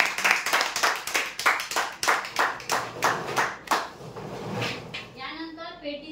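An audience at a prize draw event breaks into loud, rhythmic clapping for a winner, the beat steady and close, then fading out as a voice begins talking.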